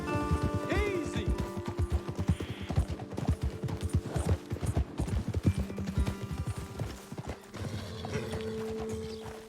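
Horse hooves clip-clopping on wet ground in the rain in the video game Red Dead Redemption 2, a steady close rhythmic trot with occasional neighs and a soft patter of rain beneath, with brief talk over it.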